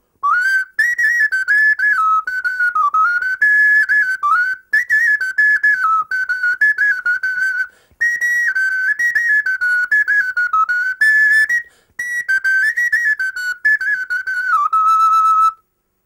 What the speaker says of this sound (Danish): Det hedder en ocarina, og det betyder lille gås.